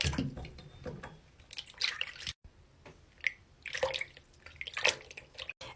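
Mini Neato squishy fidget toys are washed in a container of water, giving faint, close drips, splashes and soft squishy sloshing in short, irregular bursts.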